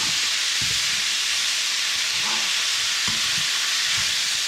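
Bun karela tossed with shrimp, onions and garlic in a hot pan, a steady bright sizzle with soft scraping stirs breaking through now and then, no voices.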